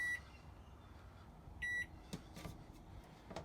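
Two short electronic beeps from a microwave oven keypad in a Winnebago Navion 24J motorhome, spaced apart, followed by faint clicks and taps nearby.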